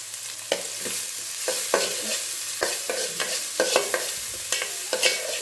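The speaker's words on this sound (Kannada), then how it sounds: "ಈರುಳ್ಳಿ ಬಣ್ಣ ಚೇಂಜ್ ಆಗೋ ತನಕ ಒಂದು ಸ್ವಲ್ಪ ಈರುಳ್ಳಿನ ಈ ರೀತಿ ಫ್ರೈ ಮಾಡ್ಕೊಂಡ್ಬಿಡೋಣ" Finely chopped onions fry in a pan for a drumstick and potato curry, a continuous close sizzle punctuated by repeated stirring scrapes at a steady rhythm, with no talking.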